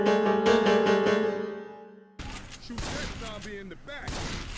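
Gunfire aimed at zombies in the video game Left 4 Dead 2 breaks out as rapid, loud bursts of shots after a sustained tonal passage fades out.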